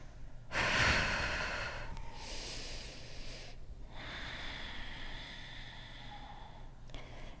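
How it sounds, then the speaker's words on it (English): Slow breaths drawn and released during a Hatha yoga pose in a studio, a strong inhale followed by several long, airy breaths with short pauses between them, close and unvoiced. "Just keep breathing here."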